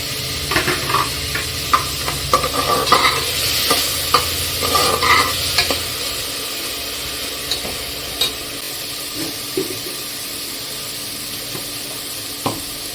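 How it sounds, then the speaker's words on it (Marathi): Onion sizzling and frying in a pan while being stirred, cooked for a spicy mutton paya curry; steady close crackle with scraping stir strokes, busier in the first half, then quieter sizzle with occasional clinks. "कांदा पण छान परतून घेऊया"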